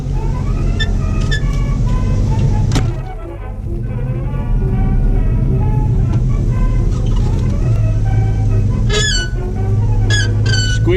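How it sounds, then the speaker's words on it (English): A 1954 Chevy Bel Air with a squeaky clutch idles and rumbles under a repeated series of high, thin squeaks, loudest near the end, with a brief dip in engine noise midway. "Squeaky clutch."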